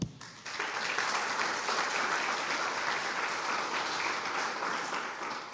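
Church congregation applauding, a steady wash of many hands clapping together at moderate distance, starting after a brief quieter moment and holding evenly throughout without talk.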